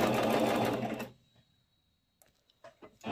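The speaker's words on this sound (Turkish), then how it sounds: "Makine kendiliğinden büzüyor." A sewing machine gathering fabric for the tiers of an elastic skirt runs in a loud, steady rapid whir for about a second, then stops, leaving near silence with a few faint clicks and light handling sounds.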